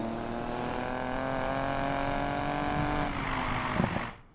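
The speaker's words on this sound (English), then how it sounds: "It sounds really good for a Buick, the Regal." A Buick Regal engine in the racing video game Need for Speed Payback drones steadily at high revs, pitch slowly climbing, then shifting near the end before the sound cuts off; no speech.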